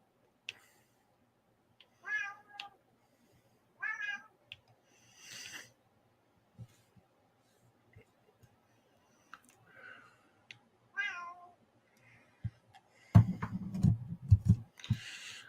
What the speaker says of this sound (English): Cat's deciding he's going to be vocal right now.